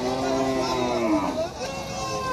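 Cattle at a crowded cow market lowing, with a long drawn moo up close at the start, followed by market chatter and low background voices.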